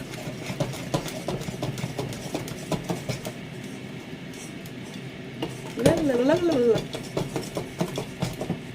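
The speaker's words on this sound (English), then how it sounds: "So I'm going to stir it first so that the flour doesn't do backflips at my face." A spoon scrapes and taps around a bowl while stirring banana bread batter and flour, a quick rhythmic clatter of close clinks, with a brief voice humming or singing partway through.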